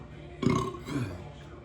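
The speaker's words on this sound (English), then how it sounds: "That was a weird burp." A person eating noodles lets out one loud, close burp with a second rumbling swell right after.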